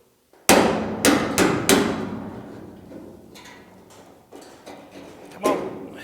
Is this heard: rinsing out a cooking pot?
no